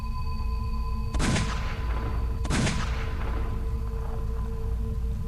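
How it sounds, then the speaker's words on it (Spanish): Two sharp gunshot cracks from a train carriage ahead, spaced about a second apart over a steady low hum, an audiobook sound effect with no talking. "Tres disparos procedentes del vagón de delante."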